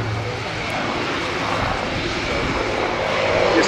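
Spitfire and Hurricane propeller aircraft flying at an airshow, the Royal International Air Tattoo, a loud continuous piston-engine drone with a slight swell as the planes pass, heard alone at some distance.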